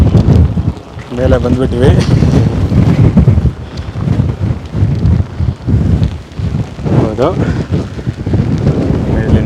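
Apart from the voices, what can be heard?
strong wind on Kunti Betta hilltop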